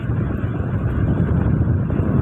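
Strong storm wind blows over a boat at sea, a loud, continuous low roar and rumble that buffets the microphone without letup.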